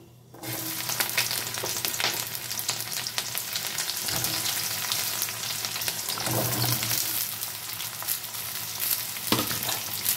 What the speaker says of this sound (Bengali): এখন ফুলকপি আর আলুটাকে 1-2 মিনিটের জন্য একটু ভেজে নেব।